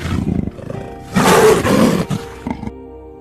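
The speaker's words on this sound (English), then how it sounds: "Cheetah growl," A cheetah growls and then lets out a loud, rough yell lasting about a second, followed by a couple of shorter growling bursts, heard alone and close.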